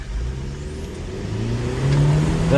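Chevrolet Colorado Trail Boss turbo engine revving while off-roading, a rising engine note climbing steadily in pitch and loudness as the turbo spools, with a faint whistle on top.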